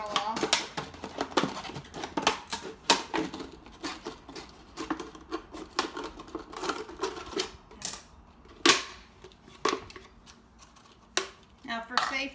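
Scissors cutting through a plastic bottle, the top being removed: a quick run of dry, crisp snips and crackles, close and fairly faint, coming in uneven bursts with short pauses between them.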